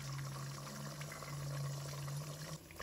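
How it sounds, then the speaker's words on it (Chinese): Eggs are poured into hot cooking oil in a wok, giving a faint, steady sizzling hiss over a low background hum, with no talking. "油热之后，把鸡蛋倒入锅中"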